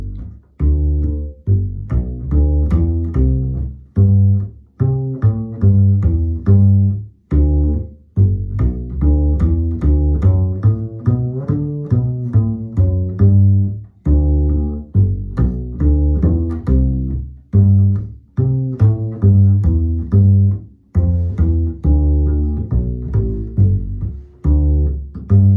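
Upright bass walking a line in G with passing notes, a steady stream of plucked, woody low notes played close and alone for the whole stretch.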